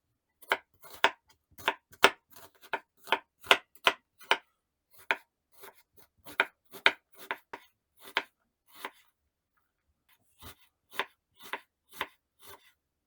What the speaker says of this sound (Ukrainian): наріжу цибулю міленькими кубиками